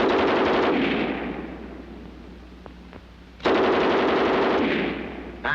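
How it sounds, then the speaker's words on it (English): A German MG 34 machine gun fires from a bipod in loud, sustained automatic bursts: one long burst, a brief lull with faint echoes, then a second heavy burst up close, with no voices. "Now the German 34 on the bipod."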